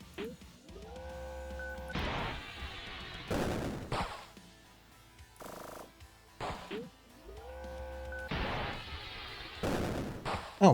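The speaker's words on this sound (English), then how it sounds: "Let's get the rocket launcher out." A rocket launcher fires in a video game, giving a couple of rising whooshing launches followed by loud bursts, with rumbling gaps and a voice talking between shots.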